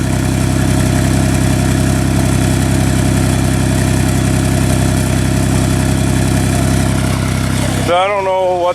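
A car engine idles steadily and close by with a misfire on cylinder 5, giving a continuous rough rumble that cuts off sharply near the end.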